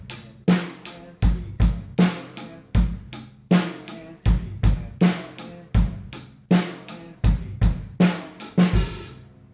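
A drum kit plays a steady repeating beat, with punchy bass drum hits and cymbal strokes in a regular rhythm, up close and loud.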